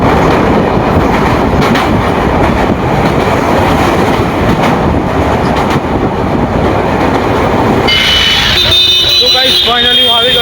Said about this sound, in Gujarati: ફાઇનલી 25 કલાક ભાઈ અમારી ટ્રેન આવી રહી છે.